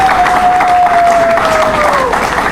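Applause at a graduation ceremony: a dense, loud crowd of clapping with some cheering, sustained and steady for the full few seconds, with a thin tonal sound running through it.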